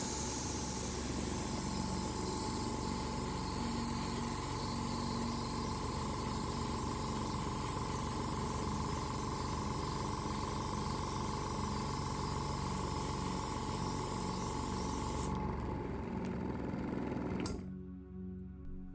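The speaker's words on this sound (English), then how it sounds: "I'll mask off the area and airbrush a clear blue." An airbrush sprays clear blue paint onto a masked Eaglemoss Star Trek Enterprise NCC-1701-D model, a steady close hiss with a compressor hum underneath that runs unbroken before cutting off near the end.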